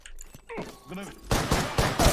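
Gunfire during a match of the battle royale video game Apex Legends, with rapid bursts of shots crackling loudly over the second half after a stretch of game sounds and a player talking.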